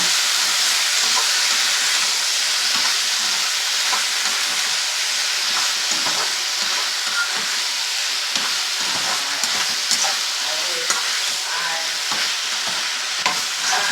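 Lightly boiled potatoes and tomatoes stirred together in a frying pan, a continuous loud sizzling hiss broken by the scrape and clatter of a spatula, close up and steady throughout with no voices.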